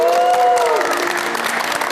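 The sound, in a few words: applause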